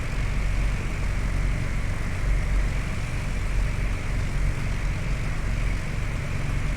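A Mooney propeller plane drones steadily in flight in the Flight Simulator 2004 game, its engine hum loud, constant and alone.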